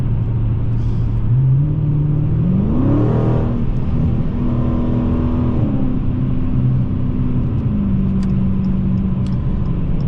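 A loud, constant low drone from a 2017 Dodge Challenger Scat Pack 392 exhaust fills the cabin in 8th gear as the engine pitch climbs, holds, then eases back down.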